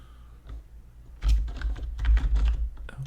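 A short burst of near, rapid keystrokes on a computer keyboard, recorded softly for ASMR, with a brief tap first and then dense clicking.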